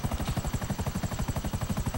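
Rotor blades of a Buzzard helicopter in GTA 5 thump in a fast, even rhythm, close and continuous with no voices over them.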